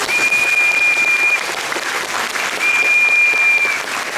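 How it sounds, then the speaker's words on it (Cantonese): An audience at the Sun Kwong theatre in Hong Kong applauds warmly after a Cantonese opera performance, a dense sustained roar of clapping with two long whistles cutting through. "所以我哋俾掌聲新光戲院"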